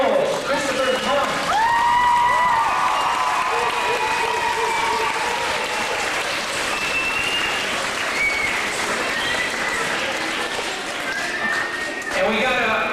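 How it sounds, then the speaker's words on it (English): Applause from an audience at a community gathering in Wetaskiwin, Alberta, steady and fairly loud for the full length, with cheering voices and chatter mixed into the clapping crowd. "please give a round of warm applause to Sandra Knowles, Kristopher's mom."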